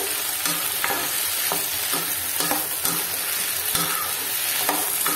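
Mango pickle cooks in sesame oil, a loud, dense sizzle and bubbling up close, broken by regular stirring scrapes of a spoon against the pan.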